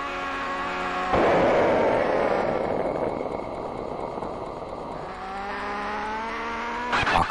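A yellow car resembling a mid-1990s Ford Escort drives in the Amiga game City Cars: a steady, buzzy synthesized engine tone shifts pitch, broken by a long harsh skid-like rush in the middle.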